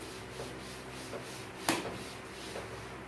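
An eraser rubs writing off a board in soft, repeated scraping strokes, faint and close, with one sharper knock partway through, in a quiet room with no talking.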